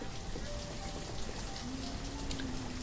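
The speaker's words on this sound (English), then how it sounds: "by God, it does rain a lot in Banished" Steady rainfall in the city-building video game Banished, an even hiss of drops pattering on surfaces with faint tonal game sounds underneath, no speech.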